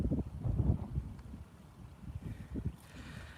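Wind buffets an iPhone microphone outdoors while waiting for LS&I U30C locomotives, a low rumbling roar that swells and fades in gusts, close and steady with no other clear sounds.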